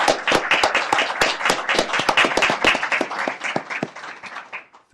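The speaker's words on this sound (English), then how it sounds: "So I'd just like to ask everyone to join me in giving Amy a warm of applause." Audience at a State Board of Education meeting applauding, a dense burst of close, sharp handclaps that gradually thins and fades over a few seconds.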